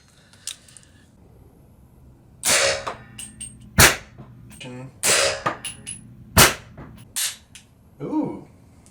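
Several sharp, sudden cracks from a suppressed Sig Rattler rifle firing 300 Blackout subsonic rounds indoors, spaced a second or so apart, with quiet gaps and a faint mechanical clack between shots.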